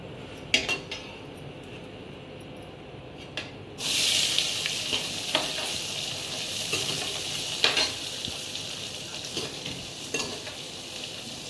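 Cumin seeds crackle in hot oil in a kadhai, a steady frying hiss jumping up sharply partway through, with scattered clinks and scrapes of a spoon against the metal pan; no talking.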